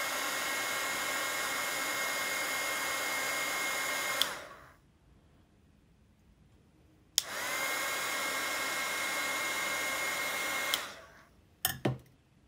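A heat embossing tool blows hot air to heat-set a craft embellishment for a ruffled peony kit. Two steady, close hissing blasts of several seconds each are separated by a quiet pause, with a few small clicks at the end.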